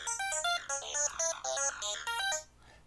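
A raw synth patch from the Thor synthesizer in Reason plays a quick, bright, bell-like run of stepped notes, fairly quiet and alone, ending in a short fading tail.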